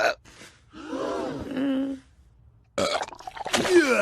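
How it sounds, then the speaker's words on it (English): A person lets out two burps separated by a brief silence: a long, drawn-out belch followed by a sharper, rougher one, both close and loud. "You know when you burp and a little something comes up your throat?"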